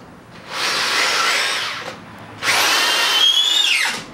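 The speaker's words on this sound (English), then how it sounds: "My drill has a sleeve so that the screw doesn't walk on me." A power drill whirs in two bursts, driving screws into wood, the second burst rising in pitch as the screw seats; close and loud with no talk.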